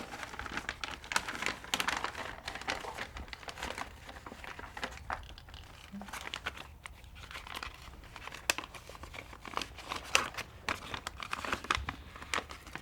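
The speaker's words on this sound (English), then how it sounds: "You have here my a blue envelope, a little envelope." Small blue paper envelope handled close by in a quiet room: soft, irregular crinkling and rustling with occasional sharper crackles, faint throughout.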